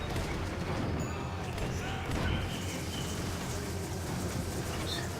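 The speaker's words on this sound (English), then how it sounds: "The trams were running again" An airport tram runs in the video game Max Payne 3, a continuous low rolling rumble with faint rattling, steady and moderately loud throughout.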